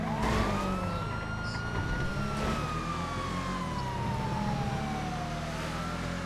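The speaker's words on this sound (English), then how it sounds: "We get wee woos in this one because it's a vanilla GTA police car as well" A wailing GTA video game police car siren sweeps up and down continuously over steady traffic noise, close and fairly loud, with no talking.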